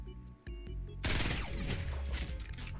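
Gunfire in the video game Fortnite, with heavy bursts erupting after a quieter opening and continuing as dense, loud overlapping shots to the end.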